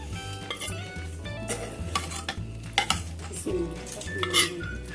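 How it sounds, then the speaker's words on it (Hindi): A spoon scrapes and clinks against a pot while matar pulao of rice, peas and potato is served out, with irregular close metallic knocks over a faint sizzle. "अब हम इसे डिश आउट करेंगे"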